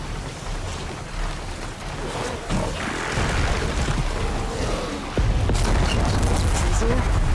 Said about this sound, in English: This bomb should come in handy. Time to drop that bomb.